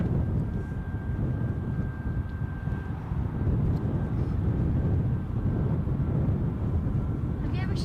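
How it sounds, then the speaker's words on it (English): A Boeing 787 Dreamliner on approach to a gusty Edinburgh airport makes a steady, loud, broad jet roar with heavy wind buffeting, and people talk over it. "That Dreamliner bearing down on us"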